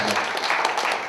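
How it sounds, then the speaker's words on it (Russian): A hall audience at a Chuvash cultural celebration claps in a short, steady burst of applause, close and fairly loud with no pause. "Аплодисменты."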